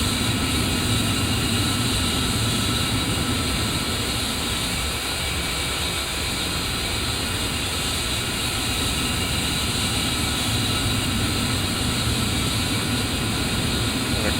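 Steady, loud jet engine roar of an A-10C aircraft in Digital Combat Simulator, a continuous broadband whine and rumble holding level throughout.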